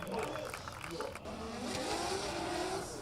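A drift car's engine roars at full throttle through a corner during a qualifying run at the Oman International Drift event, the revs climbing and holding loud while a commentator talks over it.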